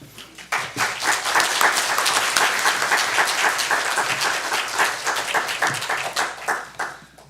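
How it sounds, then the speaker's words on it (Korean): A church congregation breaks into warm applause welcoming a speaker at Sunday worship, starting abruptly, swelling into dense clapping, then thinning into scattered individual claps before fading. "나오실 때 우리 큰 박수로 뜨겁게 환영해 주시면 감사하겠습니다"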